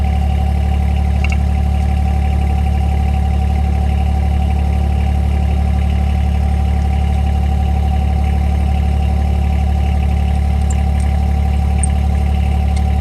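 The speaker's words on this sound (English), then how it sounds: "That's why I left the engine running." A Bad Boy tractor engine idles steadily and continuously at close range, a low rumbling drone with a faint clatter and no change in pace.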